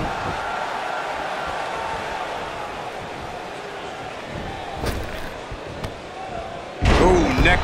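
A wrestler is slammed to the mat in the WWE 2K19 video game. A sharp impact bursts out near the end over a continuous crowd roar, with a few smaller thuds before it and commentary talk running underneath.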